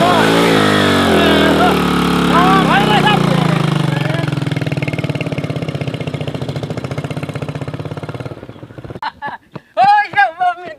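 A motorcycle engine runs close by, a steady buzzing drone that slowly fades out, followed by brief bursts of people shouting nearby.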